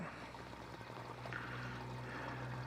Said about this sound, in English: I'm gonna just try running the water down in it.